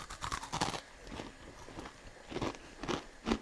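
A few crisp crunching bites into crispy fried sabudana vada, a golden Indian snack made with sabudana, peanuts, coriander and cumin, heard close up as separate crackly bursts with short pauses between them.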